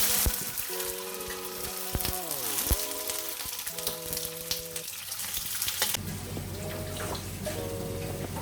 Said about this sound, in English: Next, pre-fry the bell peppers.